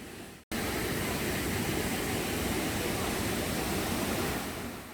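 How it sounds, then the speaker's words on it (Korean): A roaring artificial waterfall about 20 m high at a park in Seoul, a steady dense rush of falling water that starts abruptly after a brief cut and continues loud and unbroken. "폭포 물소리가 아주 우렁찬데요."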